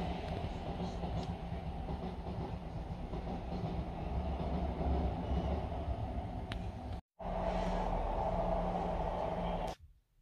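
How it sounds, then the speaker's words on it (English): A train rumbles steadily past on a railway track right beside the listener, a loud continuous roar with a low rolling undertone that drops out briefly near the end, then returns before stopping. "every time a train comes past, you hear it go brum"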